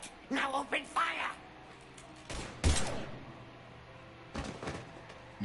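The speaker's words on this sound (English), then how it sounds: "Now open fire!" Gunfire in the video game Mass Effect 3 crackles in a few sharp bursts, with a voice talking at the start.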